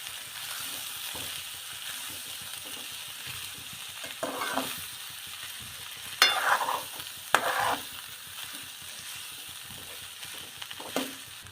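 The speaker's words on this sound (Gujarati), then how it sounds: "હવે આપણે અને હલાવી નાખીએ એટલે મસાલો બધો" Sweetcorn kernels being stirred with spices in a pan at home, a steady scraping stir over a soft sizzle, with a few louder clinks of the spoon against the pan.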